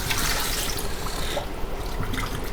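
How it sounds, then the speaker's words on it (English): Rice being rinsed in water, a continuous, dense sloshing and splashing that stays close and steady throughout, with no voices. "So clean your rice out like me right now."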